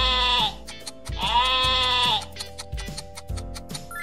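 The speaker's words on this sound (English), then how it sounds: "Sheep." A sheep bleats twice in long, wavering, nasal calls, loud and close, over light background music with a ticking rhythm and no speech.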